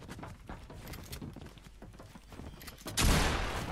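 In a Fortnite match, a loud burst of gunfire breaks out near the end over a busy background of game sounds and clatter.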